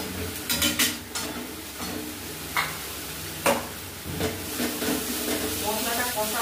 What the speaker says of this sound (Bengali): মশলাটা আরেকটু ভালো করে কষে নেবো।